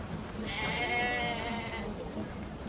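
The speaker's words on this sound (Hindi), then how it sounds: "ये भेड़ तो बीमार है, ढंग से चल भी नहीं पा रही" A sheep bleats once in a long, wavering cry near the start, set against a steady outdoor background hum, with no talking over it.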